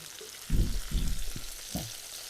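Okra (bhindi) fries in a pan with a soft, faint sizzle broken by a few short, close bursts of movement or stirring over about two seconds.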